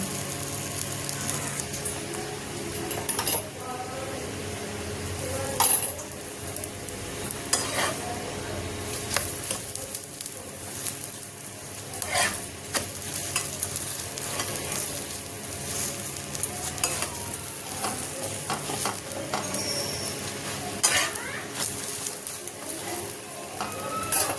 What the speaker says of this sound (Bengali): এইভাবে আমি বাকিগুলো ভেজে নেব।